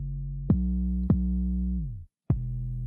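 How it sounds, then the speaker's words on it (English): Clean 808 bass with a slight bump, sounding as three deep sustained notes, each with a sharp attack, the last one following a brief gap of silence, loud and alone with no voices. "clean 808 with just a little bit of a bump"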